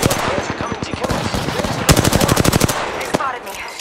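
Rapid automatic gunfire from Apex Legends gameplay, loud and close, with several fast bursts of sharp evenly spaced shots and a lone final report.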